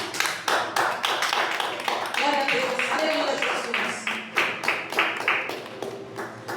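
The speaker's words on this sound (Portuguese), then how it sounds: "As palmas glorificam ao Senhor, aleluia" A church congregation claps in a rhythmic, regular beat while a preacher's voice speaks over it, the sharp hand claps standing out clearly and fairly close.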